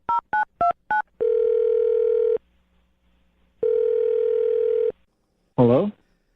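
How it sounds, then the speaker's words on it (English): Telephone keypad tones as a number is dialed: four short rapid beeps, then two long steady ringback tones separated by silence, and a brief voice fragment at the end. "I'm dialing his phone number right now."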